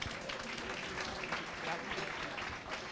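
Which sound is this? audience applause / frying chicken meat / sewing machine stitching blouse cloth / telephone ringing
audience applause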